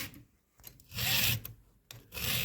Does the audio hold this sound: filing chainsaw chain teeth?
yes